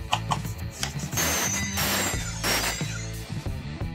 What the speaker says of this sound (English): we're gonna cut all three of our pipes in half.